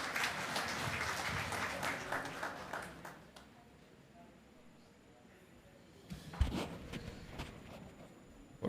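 Audience applause for a cabinet minister at a fisheries review meeting in Aizawl, a sustained round of clapping that fades out, then resumes more sparsely near the end.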